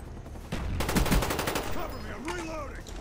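Rapid bursts of automatic gunfire from an online match of Call of Duty: Black Ops on Xbox 360, loud and close with a fast stuttering rhythm, followed by softer in-game sounds.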